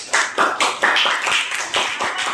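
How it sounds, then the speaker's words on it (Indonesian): A small audience claps briefly, giving a dense, fairly loud patter of hand claps in pulsing waves that lasts a couple of seconds. "Oke, give applause."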